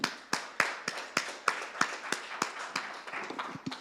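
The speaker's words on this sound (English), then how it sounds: "I'd like you to all give a round of applause." Conference attendees give a short round of applause, the first distinct, evenly spaced claps soon thickening into a denser patter in a room.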